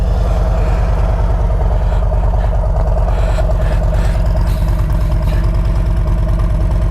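A 2023 Harley-Davidson Road Glide Special with a stage 1 setup idling close by, a loud, deep, regular lumpy thump from the V-twin that holds steady and alone throughout.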